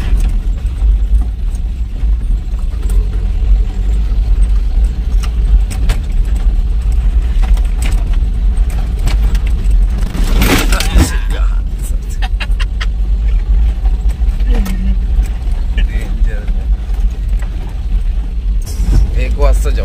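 A car rumbling along a rough off-road jungle track near a river, with steady loud engine and road noise throughout and occasional bumps and rattles from the body.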